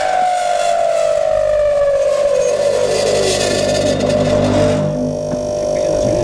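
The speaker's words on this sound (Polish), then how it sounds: "Pokażemy Wam również, że piła ma hamulec," A loud log splitter's saw motor winds down, its whining pitch falling steadily as the blade brakes to a stop, ending in a lower mechanical hum.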